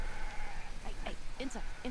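Sheep bleating in Farming Simulator: a few short, faint bleats stacked near the end over a steady background hum.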